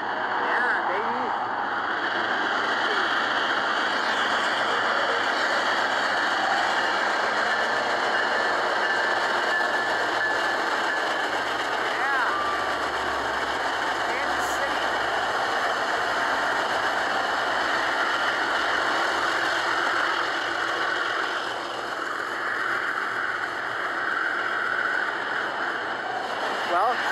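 Freight train box cars rolling past close by, a steady loud mechanical rumble and clatter with squealing tones that holds for the whole stretch, with someone talking over it at times.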